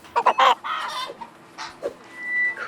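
Live chickens cluck in a video game grocery store: a quick run of loud, close clucks and squawks, followed by a few softer scattered clucks, with no voices.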